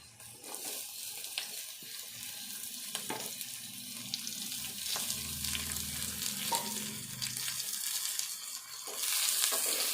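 Ivy gourd pieces crackle and sizzle in a pan, with occasional clinks and scrapes of stirring over a steady frying hiss.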